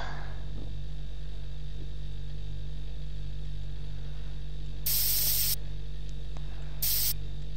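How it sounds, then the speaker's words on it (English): In a cockroach simulator video game, a deodorant body spray can fires two short, loud hissing bursts, the first about half a second long and the second briefer, over a steady low electronic hum. "Wow, this spray looks like Axe. It's called deodorant body spray."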